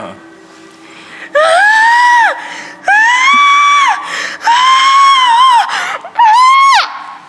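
A voice imitates a scream: four long, loud, high wails with brief gaps between them, rising, holding steady and falling off, with no talk in between.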